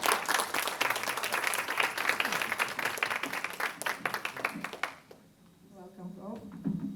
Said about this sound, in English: with a round of applause, let us welcome Prof Irfan to the stage